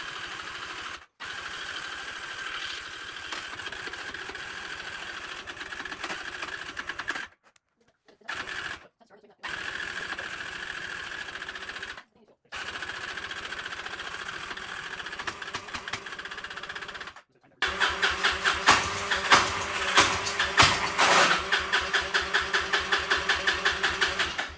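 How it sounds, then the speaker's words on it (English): A Yamaha Breeze four-wheeler with a clogged carburetor sputters and struggles to start, rough mechanical chugging in bursts broken by pauses, rising into a louder rattling run near the end. "It doesn't sound like a four-wheeler's about to start."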